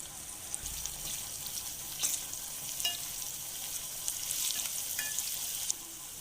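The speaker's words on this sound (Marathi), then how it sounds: "आता यामध्ये टोमॅटो परतून घेऊया आता यामध्ये लाल तिखट पावडर तसेच हळद टाकूया" Tomatoes sauté in a pan with red chili powder and turmeric for a dried bombil curry. A steady, soft sizzle runs throughout, with a few faint stirring clicks and no voices.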